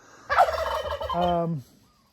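A male turkey on a farm gobbles once, a loud, close rattling call that breaks into a descending warble before cutting off, with no other sounds around it.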